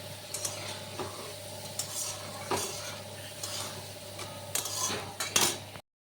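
A spoon stirs spice paste in a pan for a fish curry, scraping and knocking against the metal in irregular close strokes over a faint, steady sizzle.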